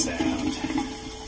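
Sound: water filling toilet bowl

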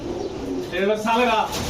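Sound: pigeons cooing

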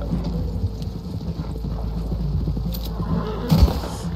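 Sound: horses galloping in video game Red Dead Redemption 2

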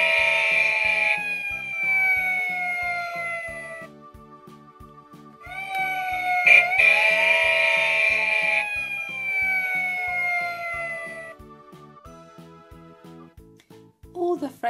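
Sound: toy fire engine siren

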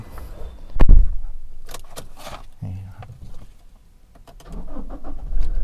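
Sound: Toyota Revo pickup engine starting with key

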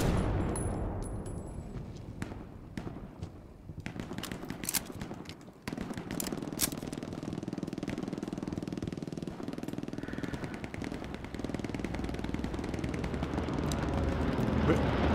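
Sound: gunfire in the video game Hell Let Loose

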